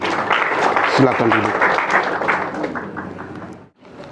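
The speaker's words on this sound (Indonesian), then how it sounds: "Kita beri tepuk tangan yang meriah." Guests at a church wedding ceremony applaud the newlyweds, a dense patter of clapping with voices mixed in, fading near the end as someone speaks briefly.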